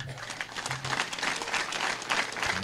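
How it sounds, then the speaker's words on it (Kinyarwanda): A village audience at an outdoor community meeting in Gasayo, Nyamasheke, breaks into steady hand clapping that keeps going for the whole stretch, loud and close, with a low voice murmuring underneath. "Ayo mashyi ko numva se"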